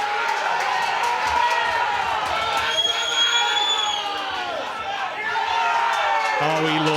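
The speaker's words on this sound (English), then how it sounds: "Listen to the crowd if he gets on the 8 here." Crowd at a £60,000 snooker money match in Hatfield erupts in loud cheering and whooping, sustained shouts swelling together while a commentator speaks over it.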